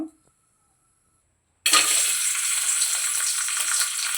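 Vermicelli hits hot ghee in a pan after a moment of silence and bursts into a loud, bright, continuous sizzle that keeps steady to the end.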